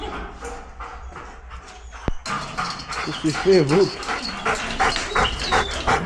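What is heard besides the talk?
dogs barking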